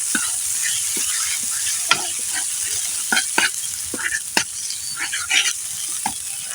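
Banana peels seasoned with turmeric and salt sizzle steadily in a pan, while a utensil scrapes and clicks through them in irregular stirring strokes. It is close and continuous, with no talking.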